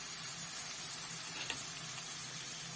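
Onions, peppers and eggplant sauté in a pan for an eggplant menemen, giving a soft, steady sizzle that stays quiet and even all the way through, with no one talking.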